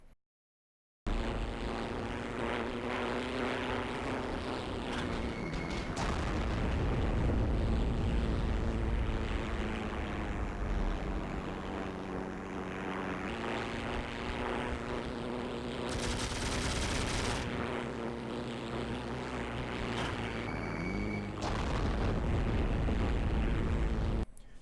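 A propeller plane drones steadily through a bombing run in the video game Heroes and Generals, its engine a continuous roar for most of the stretch, with bursts of explosions and gunfire mixed in.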